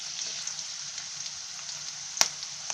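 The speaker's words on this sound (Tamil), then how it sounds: "பூண்டு வந்து கொஞ்சம் எண்ணெயில் கொஞ்சம் நல்லா வதங்கணும்" Garlic and curry leaves fry in hot oil for an Indian gooseberry pickle, giving a steady close sizzle with a sharp crackling pop near the end, no voices.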